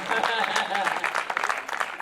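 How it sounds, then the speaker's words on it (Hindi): Applause from an audience at a Hindi comic poetry show, a steady dense patter of clapping running the whole time with voices talking over it. "ताली बजाओ भैया एक बार जोरदार।"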